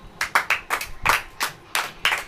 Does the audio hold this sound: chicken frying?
no